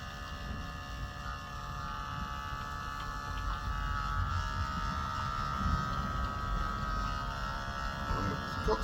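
An Outin espresso coffee machine runs steadily with a low, constant pump hum and faint mechanical buzz, a continuous drone that holds at an even level throughout without talk.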